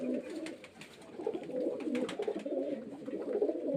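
Giribaz line pigeons from Murshidabad, kept for sale, coo in a steady run of low, rolling, throaty notes that overlap continuously, close by.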